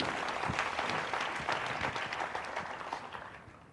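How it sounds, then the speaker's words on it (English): Audience at a national quiz finals clapping for a contestant, a dense burst of applause close by that gradually fades toward the end. "A round of applause for Vishwendra."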